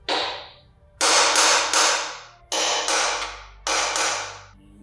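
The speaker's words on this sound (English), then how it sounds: "you always want to mark out your location with the center punch, so your drill doesn't wander around" Sharp metallic hammer blows strike a center punch to mark drill spots on steel for an off-road metal bumper on a Nissan Armada, six loud ringing hits in three quick pairs.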